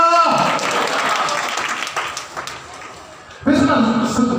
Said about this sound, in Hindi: ताली बजाकर प्रभु का नाम को महिमा करें।